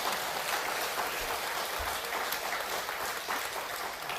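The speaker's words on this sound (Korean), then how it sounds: "박수하세요." Church congregation applauding through a 70th anniversary thanksgiving service, steady sustained clapping filling the room, fairly distant.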